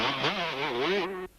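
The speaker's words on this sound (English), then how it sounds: "riding a Suzuki." Suzuki 125cc enduro motorcycle during a 1998 race, a single nearby engine buzzing and revving with a wavering pitch for about a second before cutting off abruptly.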